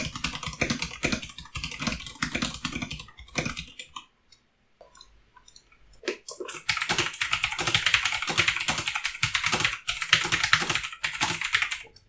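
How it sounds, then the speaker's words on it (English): Mechanical keyboard typing on a Royal Kludge RK71 70% board, first with red switches then clicky blue switches: dense rapid keystroke clatter, a brief pause, then louder, brighter continuous typing, close and alone. "Here's what the Kale red switches sound like compared to some clicky Otemu blues."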